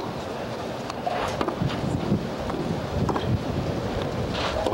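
Gusty wind blows across an outdoor tennis court at a 1987 Hilton Head match, a continuous broadband rush buffeting the microphone with fluctuating intensity, and no one speaking.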